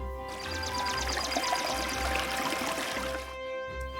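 Clean river water pours in a steady stream for a few seconds, fairly close, with a faint background tone and no voices.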